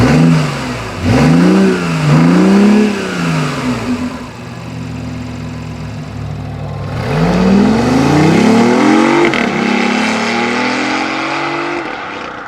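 A 2018 BMW i8 hybrid sports car is driven hard, its engine revving up through gear changes in two bursts, dropping to a steady hum between them, then climbing again in loud, close accelerating pulls.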